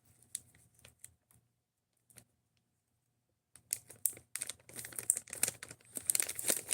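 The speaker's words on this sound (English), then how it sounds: "This bag is not fucking resealing." A resealable plastic bag handled and crinkled, with sparse scattered crinkles early on, then dense, loud crackling and rustling close up over the second half.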